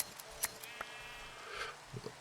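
A sheep in a video game bleats faintly over a low hum, with a few soft clicks and small blips nearby.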